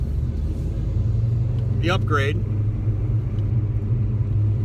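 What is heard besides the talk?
1991 Mustang GT engine with Paxton supercharger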